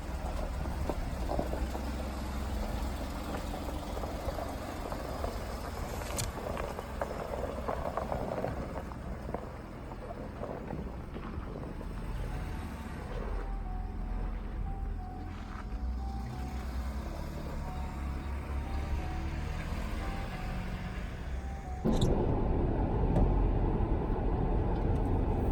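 A Jeep Wrangler Rubicon, damaged after a salt-flats trip, drives with a steady low engine drone and road rumble that stays close and even throughout, shifting abruptly near the end.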